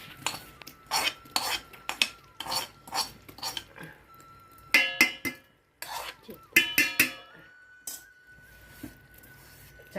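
Sesame seeds are stirred into hot jaggery syrup in a metal pot for ghee ariselu, with a spoon scraping and clinking against the pan in quick, irregular strokes and occasional ringing taps.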